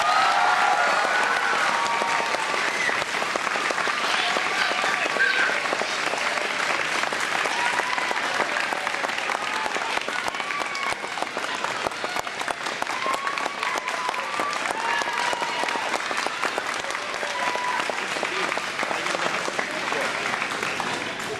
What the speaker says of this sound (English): I want you to give her a humongous cheer